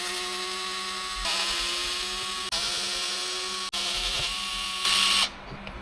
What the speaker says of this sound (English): I'm going to flip it over and take the screws out from the transmission on the bottom